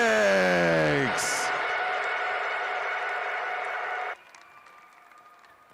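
Crowd at a college gymnastics meet, Stanford at Denver, applauds and cheers steadily under a loud descending musical flourish, the clapping holding for several seconds before dropping suddenly to a faint murmur.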